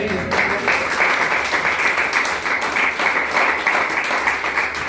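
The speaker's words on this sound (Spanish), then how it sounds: "Denle un aplauso al Señor, amén." A church congregation applauds steadily and loudly for the whole stretch, a dense wash of many hands clapping with no break.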